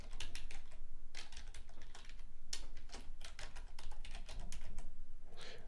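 Steady clattering keystrokes on a computer keyboard while filling in an Amazon account sign-up form, close and continuous with brief pauses between bursts of typing.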